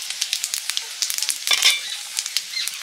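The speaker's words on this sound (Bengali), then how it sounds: "এবারে দিচ্ছি শুকনো লঙ্কা, গোটা জিরে আর গোটা গরম মশলা" Dry red chillies, whole cumin and whole garam masala drop into hot oil and spit, with bright crackling pops scattered throughout and a louder burst of sizzle midway, close and with no voices.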